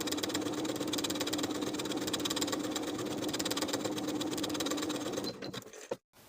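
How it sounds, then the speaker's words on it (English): A sewing machine running basting stitches across a sleeve between notches: a close, steady mechanical whir with rapid rhythmic needle clatter for about five seconds, then sputtering and stopping with a brief clunk at the end. "we're going to sew basting stitches from outer notch all the way across to outer notch"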